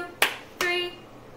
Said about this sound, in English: So we go clap, pat, clap, pat,